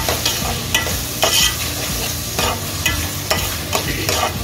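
Two chopped tomatoes stirred and frying in a pan for prawn thokku: close, steady sizzle punctuated by regular sharp clacks and scrapes of a ladle against the pan, no one speaking.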